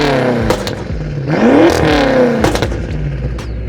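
A Mercedes CLS63 AMG V8, fitted with an exhaust valve controller and a popcorn tune, revs up and falls back in rising and dropping sweeps, loud and close, with crackling pops between blips.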